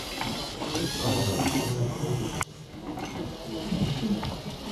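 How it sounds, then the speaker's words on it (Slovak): Small LEGO competition robot motors whirring and clicking during a FIRST LEGO League regional match, a steady mechanical hum over busy hall noise with a brief thump midway, voices murmuring in the background. "Vidíme robota, ako z chladničky vyberá krmivo pre zvieratka,"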